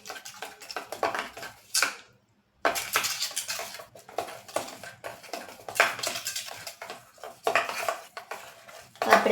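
A spoon stirs and scrapes a smooth paste in a bowl for potato cheese balls, making repeated clinking, scraping strokes in an uneven rhythm, close up and mostly without talk.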